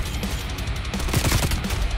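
Video game gunfire from a Cold War-era standoff match, a dense crackle of rapid automatic shots that runs steadily and grows busier midway, loud and continuous with no talking.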